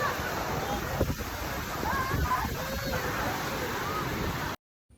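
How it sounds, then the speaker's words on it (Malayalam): Athirapilly waterfall thunders down from a great height onto rocks in the monsoon, a dense, steady roar close by that fills the scene while people talk over it, then cuts off abruptly near the end. "അത്രയും ഹൈറ്റിൽ നിന്ന് നല്ല ഫോഴ്സിൽ വെള്ളം പാറയിലേക്ക് ഇങ്ങനെ കുത്തി വീഴുന്നതിൻ്റെ ഒരു പ്രഷറാണ് നമുക്ക് ചുറ്റിനും ഒരു മഴയായിട്ട് ഫീൽ ചെയ്യുന്നത്"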